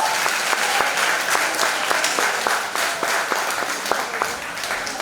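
Audience applause at a Pre-K graduation ceremony at a school, a steady wash of clapping with a few distinct nearby claps standing out, lasting five seconds without talk.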